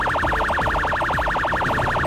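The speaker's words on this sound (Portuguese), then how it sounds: "Esse é o barulho do carro da polícia." A police car siren used as a sound effect, a rapid, regular two-tone wail that rises and falls many times without a break, loud and close, with a low rumble beneath and no talking.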